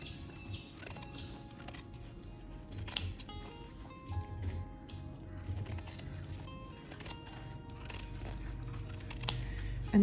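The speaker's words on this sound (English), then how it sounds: "how I trim the corners is literally cut close as possible to the corner seam as possible and get rid of the excess seam allowance" Scissors snip fabric seam allowance at the corners of a sewn garment lining, making faint, sparse, close clicks and crisp cuts over a quiet room.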